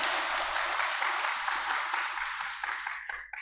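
An audience at a talk on mental resilience at a Buddhist temple gives a round of steady, dense applause that gradually thins and tapers off toward the end.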